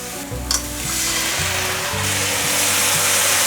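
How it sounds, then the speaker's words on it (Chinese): Vegan pumpkin pieces stir-fried in a wok with celery and vegetarian oyster sauce, giving a loud, steady sizzle with a few scraping stirs of the spatula and no talking. "继续翻炒。"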